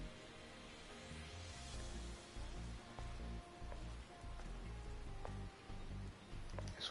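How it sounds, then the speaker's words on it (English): Steady rain falling in the Stellar Blade game, a soft continuous patter on surfaces under a low droning background, faint and even throughout. "I can hear the rain now"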